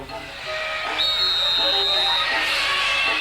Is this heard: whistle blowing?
yes